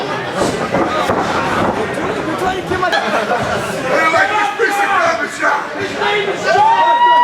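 A wrestling event crowd's loud, steady chatter with whoops and cheers rising and falling throughout, voices swelling louder toward the end.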